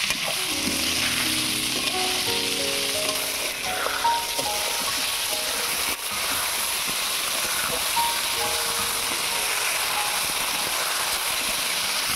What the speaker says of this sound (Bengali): পটলগুলো সব ভালো করে ভেজে নিয়েছি